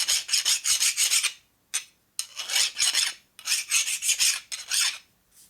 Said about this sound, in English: If you go to a finer file, it's still trying to do the same thing